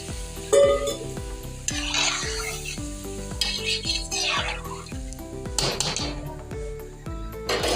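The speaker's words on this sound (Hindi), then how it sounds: "मैं इसके अंदर पानी डाल रही हूँ।" Water is poured into a pot of frying chicken and peas for a chicken mattar curry, with sizzling, stirring and clinking of utensils against the pan, over continuous background music.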